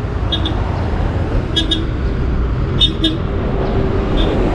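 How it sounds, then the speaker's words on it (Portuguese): A bus horn toots repeatedly in quick pairs over a constant rumble of road traffic, moderately distant, on a Mexico City avenue with a dedicated bus lane. "Aí tá buzinando para poder tirar o pessoal do caminho"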